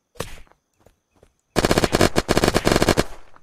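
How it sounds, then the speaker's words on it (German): Uzi submachine gun firing in the video game Unturned: a short burst and a few scattered shots, a pause, then a loud sustained rapid-fire stream of about a second and a half. "Ah, verdammte Scheiße, jetzt habe ich geschossen aus Versehen."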